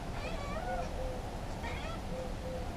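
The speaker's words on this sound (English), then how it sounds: "Here comes the cat." A house cat meows several times nearby. The meows are soft and drawn out over a steady background hum.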